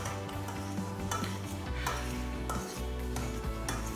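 Avocado is smashed for guacamole and scraped down the sides of the bowl, a continuous close, wet mashing and scraping with steady rhythmic strokes and no talking.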